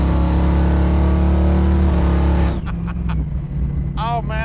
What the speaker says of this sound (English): I've just put some pressure on the accelerator